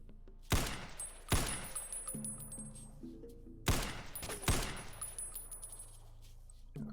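Gunfire in the video game Fissile Empire: four sharp, loud shots in two spaced pairs, each leaving a short ringing tail, with quiet game ambience in between.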